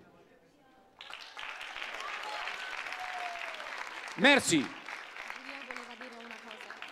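Applause from a theatre audience starts abruptly and continues steadily at moderate volume, with a performer speaking briefly and a short loud vocal burst over the clapping.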